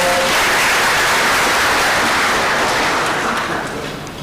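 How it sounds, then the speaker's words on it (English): Audience applause at a college of engineering orientation, a steady dense wash of clapping from a large crowd that holds for about four seconds before easing slightly at the end. "A hand of applause."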